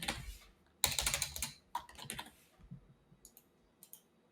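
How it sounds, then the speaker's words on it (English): Rapid keystrokes clatter on a computer keyboard in quick clustered bursts, close and fairly quiet, trailing off into a few sparse taps. "All I gotta type in is business name"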